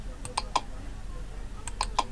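Computer keyboard keys are pressed while designing a wedding invitation in CorelDRAW, giving two pairs of sharp, quick clicks about a second and a half apart over low room hum.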